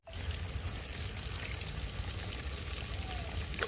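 Water is poured into a cooking pot in a home kitchen while a mutton curry with local fish is prepared, giving a steady, continuous splashing pour close by with a low rumble underneath.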